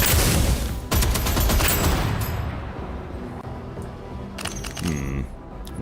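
Rapid bursts of weapon fire in the video game DeadZone: Rogue, a loud dense volley that cuts off abruptly, followed by a quieter stretch and a short final flurry of sharp electronic shots.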